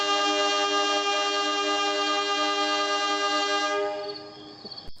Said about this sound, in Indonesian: Berselang beberapa menit, klakson kereta ini bunyi.